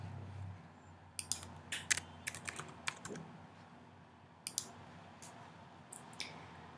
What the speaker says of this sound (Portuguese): digitando usuário e senha